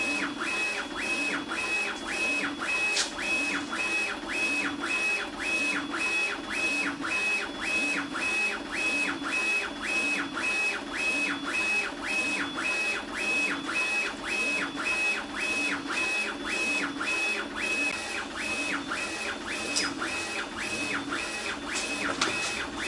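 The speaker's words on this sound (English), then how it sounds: "we'll just click print, and then it'll print." A UV printer runs through a print job, its carriage making a steady, evenly spaced series of mechanical passes with a high whine, loud and continuous throughout with no talking.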